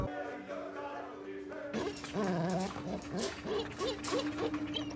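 Dogs in the horror film The Thing (2011) let out strained, rising whines and yelps in a quick run of cries over a tense film soundtrack, close and fairly loud.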